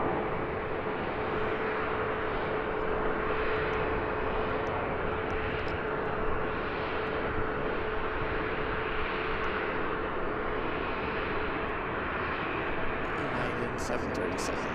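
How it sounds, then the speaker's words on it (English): A British Airways airliner taxis at Chicago O'Hare airport, its steady broadband engine roar holding constant and fairly close throughout, with faint voices murmuring underneath. "British Airways taxi right in front of us."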